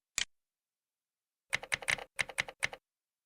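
A computer keyboard typing a search into the AWS console: one isolated keystroke, a pause, then a quick burst of about eight clicky keystrokes, close and clear with no talk.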